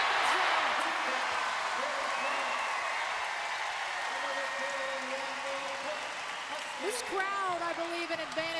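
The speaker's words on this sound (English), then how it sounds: "Crowd getting into it, especially for the service of Cassie Strickland" A large arena crowd at a 2013 Washington vs USC women's volleyball match roars and cheers steadily for a serve, a loud sustained wash of noise with an announcer's voice talking over it.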